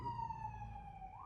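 An ambulance siren sounds faint and distant, holding a steady wailing tone before it starts to rise near the end, with low traffic rumble beneath.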